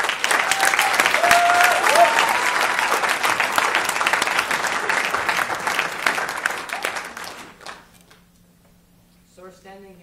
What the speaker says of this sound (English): Please give them all one last round of applause.